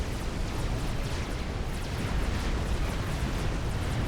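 A continuous roar of torpedo volley explosions from the Supreme Commander: Forged Alliance video game, dense and rumbling without pause, with no voices.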